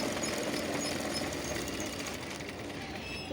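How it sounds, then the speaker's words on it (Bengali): An electric sewing machine stitches fabric for a small child's frock, giving a steady, dense mechanical whir that runs close and unbroken throughout with no talking. "আমার সেলাই দেওয়া প্রায় শেষের দিকে।"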